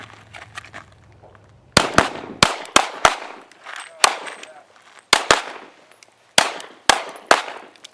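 Sharp, loud pistol shots ring out during a shooting drill in the desert, about a dozen cracks in uneven clusters with short echoing decays between them.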